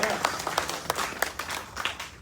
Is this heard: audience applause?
yes